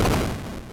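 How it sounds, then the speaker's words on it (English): Explosions in the video game EarthBound Beginnings, a dense, loud rumbling burst of booms that fades over under a second. "Suddenly we hear explosions outside. We're under attack!"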